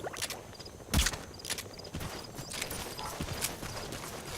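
Donkey hooves clip-clop through a stealth game set in a wartime world, coming as a run of sharp, close knocks with one louder thump early on. Soft game ambience sits underneath.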